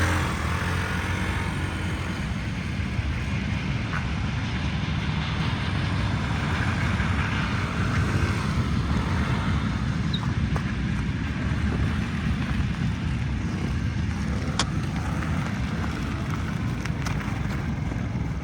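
Yamaha BWS 49 four-stroke fuel-injected scooter riding at about 56 km/h, a steady engine drone mixed with heavy wind rush, continuous and close for the whole stretch, no talking.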